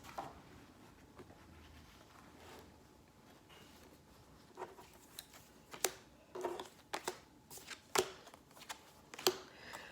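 Tarot cards being shuffled by hand, quiet at first and then a run of brisk riffling and snapping bursts through the second half, close to the ear with no talking.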